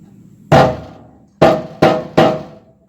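Four loud, close metallic hammer strikes on a Roxor dry bearing assembly, one blow followed after a pause by three quicker ones, each ringing briefly before fading.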